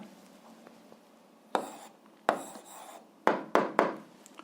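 Pen or pencil writing out an algebra answer on paper, heard as a few short scratchy strokes in quick bursts, close and fairly quiet, with no talking.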